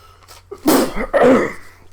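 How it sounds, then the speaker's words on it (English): A single fake, exaggerated, theatrical sneeze: a short breathy intake followed by a loud burst, with a second noisy exhale trailing off, close to the listener. "fakest sneeze."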